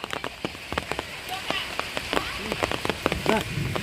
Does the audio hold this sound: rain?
yes